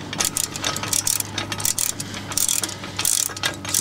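Hand crank on a Starcraft popup camper ratcheting as the roof is raised, a close series of sharp metallic clicks in quick irregular bursts, with no voices.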